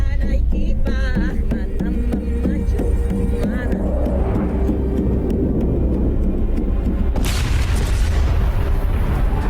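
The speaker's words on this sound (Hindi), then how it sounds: "उधर बम धमाका हुआ है।" A film bomb blast roars as a loud, sustained rumble with a sharp burst of noisy debris near the end, over low vehicle-like drone and faint voices.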